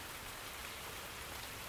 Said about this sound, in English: it started to rain. Lovely, warm, tropical rain.